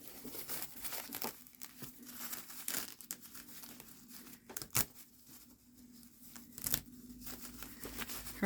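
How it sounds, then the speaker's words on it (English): Stabilizer backing tearing away from a towel machine-embroidered with a sunflower, stitched through the middle: repeated close crinkly rips and rustles in uneven bursts, with a few sharper snaps. "I try to tear left, right, top to bottom, but sometimes, it's hard when there's stitches in the middle"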